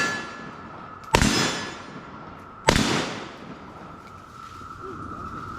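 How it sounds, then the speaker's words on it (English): Two sharp, loud SIG pistol shots ring out about a second and a half apart at an outdoor shooting range, each leaving a short echoing tail over a low background hum. "I was gonna shoot the SIG a little bit."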